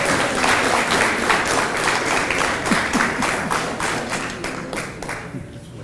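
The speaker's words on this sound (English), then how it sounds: "let's give her a nice round of applause" At an adult bowling association banquet, the audience gives a round of applause, a loud, dense spread of many clapping hands that carries on for several seconds and tapers off toward the end.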